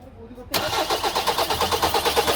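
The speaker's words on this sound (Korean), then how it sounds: "자, 시동 한번 걸어보세요." A car with a faulty injector and its injector pipe disconnected from the fuel rail cranks and fires at close range, going from near silence to a loud, rhythmic pulsing engine that keeps churning unevenly.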